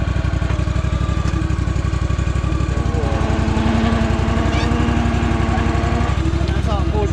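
A Stinger lawn aerator's small engine chugs nearby as it pulls soil plugs, a loud, rapid, pulsing rhythm with faint mechanical clatter running steadily.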